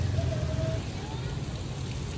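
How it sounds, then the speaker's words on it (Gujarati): Heavy rain pours onto a flooded residential street in Surat, a steady, even hiss that fills the moment without a break, with a low hum underneath. "સુરતમાં કંઈક જુઓ આવી રીતનો વરસાદ પડી ગયો છે"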